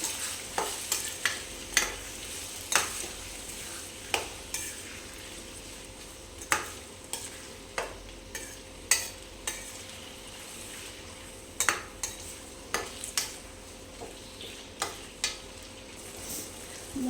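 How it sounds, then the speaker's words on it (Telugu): Tomatoes and spring onion greens are stirred in a pan, with repeated sharp scrapes and taps of a spoon against the metal recurring every second or so over a soft, continuous sizzle, with no talk. "టమాటా వేసుకున్నాక బాగా కలుపుకోవాలి"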